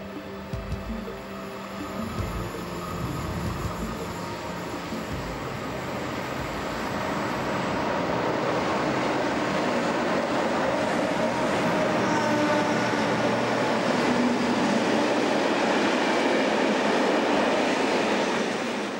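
A grey class E42 electric locomotive hauls a freight train of about 2000 tonnes through Riestedt station, building from a distant rumble to a loud, steady roll of wagons with faint rail clatter.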